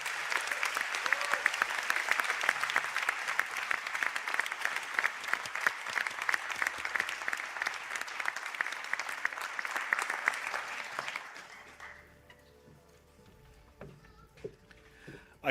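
A large audience at a college conferring ceremony claps steadily for about eleven seconds, then the applause fades out, leaving a quiet hall with a few faint knocks.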